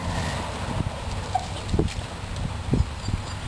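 Dogs interact socially at close range, giving soft whimpers and scuffling thumps over a steady background hiss, with brief bursts of movement throughout.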